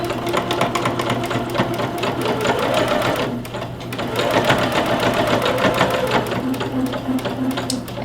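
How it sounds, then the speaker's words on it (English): A sewing machine runs steadily through a 3/8 inch seam on a Butterick B5538 garment, back stitching at the start, its motor whirring continuously with a brief slowdown midway, loud and close with no talk. "So we're going to back stitch at the beginning."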